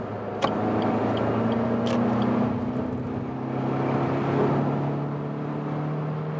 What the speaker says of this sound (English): You can also hear the engine working a little bit more.